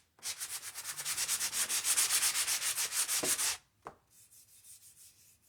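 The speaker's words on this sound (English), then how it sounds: "let's go ahead and sand this just a touch to make it" A wooden 2x4 board being sanded by hand, a close, rhythmic series of rapid scraping strokes for about three and a half seconds, then a brief knock and a few softer, lighter strokes.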